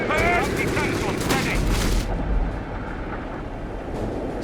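Gunfire and heavy explosions from a Company of Heroes 3 battle, dense bursts and rumbling blasts packed together with radio-style unit chatter layered over the loud combat.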